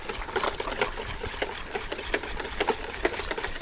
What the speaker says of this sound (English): whisk this for about 2 minutes